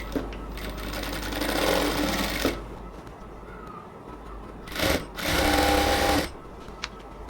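A sewing machine stitching the upper part of a salwar runs in two bursts, a long whirring stretch followed after a pause by a shorter one, close and alone with faint background noise between.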